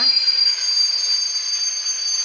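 A train rumbles past close by, with a steady high metallic squeal from the wheels running the whole time.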